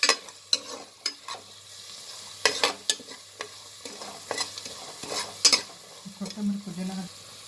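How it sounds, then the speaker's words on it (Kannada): Ginger, garlic and green peas frying in a pan for ghee rice, with repeated spatula clinks and scrapes against the metal over a soft sizzle, close up and without speech. "ಸ್ವಲ್ಪ ಶುಂಠಿ ಬೆಳ್ಳುಳ್ಳಿ, ಇದು ಬಟಾಣಿ ಎಲ್ಲ ಹಾಕಿದ್ದೀನಿ, ಇದ್ರ ಜೊತೆಗೆ ಫ್ರೈ ಆಗಲಿ."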